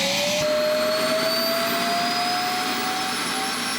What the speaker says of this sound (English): The sound of the base self-emptying, that can sound a little bit jarring